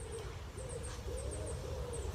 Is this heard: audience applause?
no